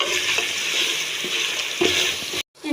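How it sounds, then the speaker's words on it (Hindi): Spices for masala kaleji (spiced liver curry) frying in a pan, a steady close sizzle with a few scraping stirs, cutting off abruptly near the end. "मसालों को 2 से 3 मिनट के लिए मैं इसमें भूनूंगी, पकाऊंगी"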